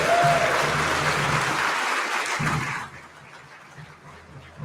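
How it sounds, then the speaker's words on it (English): Loud sustained clapping from a conference audience at a smart-city fireside chat that fades out abruptly partway through, leaving a quiet room. "how about another round of applause?"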